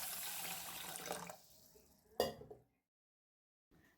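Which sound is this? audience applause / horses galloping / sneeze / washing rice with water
washing rice with water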